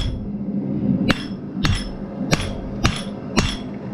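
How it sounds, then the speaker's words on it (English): Five sharp, ringing hammer blows on a metal arrowhead shaped from a leaf pattern on a blacksmith's anvil, evenly spaced at roughly half-second intervals over a low background hum, close and clear. "Start hammering down."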